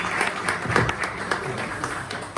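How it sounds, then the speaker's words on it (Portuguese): An audience at a poetry book launch gives steady, continuous applause that fills the whole moment, with a voice faintly underneath. "Palmas para o Santiago."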